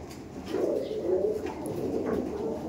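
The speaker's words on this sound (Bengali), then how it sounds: "আবারও একটি চুইনা পেয়ার দেখাচ্ছি গিরিবাজের মধ্যে দিয়ে" Giribaj pigeons coo softly in a loft, low rolling coos repeating over a few seconds at a faint, close level.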